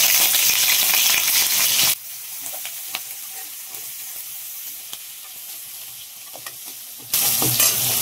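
Garlic, green chili and curry leaves crackle and fry in oil after mustard seeds, a loud bright sizzle at the start and end with a quieter, sparser spattering stretch in the middle and no talking.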